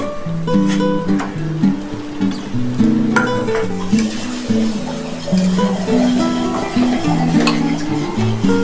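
Eggs go into a pan of fried spiced masala for a sweet egg kosa, giving a steady sizzle with repeated stirring and clinking of a spoon against the pan, close and fairly loud over a musical backdrop.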